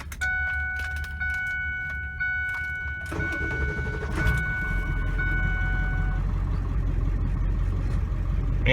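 A 2001 Ford F250 with a 7.3 Powerstroke diesel cranks and fires after a few seconds of quiet whine, then settles into a loud, steady rumbling idle that continues to the end.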